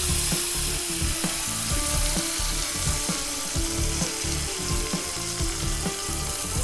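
Tempering spices for a doddapatre tambuli crackle and sizzle in hot oil, a loud, dense, continuous hiss heard close with no talking.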